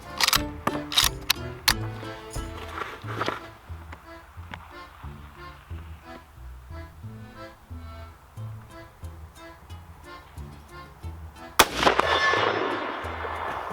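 Mosin-Nagant 91/30 Russian military surplus rifle fired outdoors at a 100-yard range, with a cluster of sharp, loud shots early on and another booming report near the end, its echo ringing across open ground.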